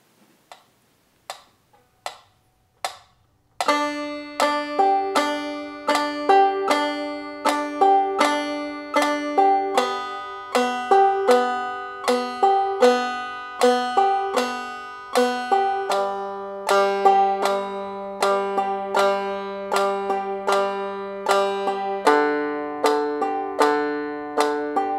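Clawhammer banjo played alone in a hammer-thumb pattern that climbs from string to string, opening with a few sparse plucks and then settling into a steady, bright, evenly repeating rhythm of close, clear notes.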